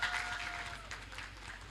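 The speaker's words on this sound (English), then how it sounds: "A round of applause to her as she get on stage." Conference attendees at an innovation week event applaud as a panelist walks onto the stage, a soft, steady spread of clapping from a distant crowd over a low hum.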